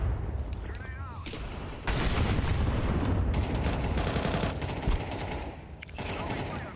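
Counter-Strike 2 combat with a grenade explosion and gunfire: dense, loud volleys of shots and booming blasts run almost continuously, with brief game voice callouts under the noise.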